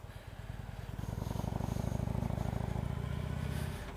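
A motorcycle engine idles steadily nearby with an even, rapid low-pitched thrum that swells slightly in the middle and then eases off.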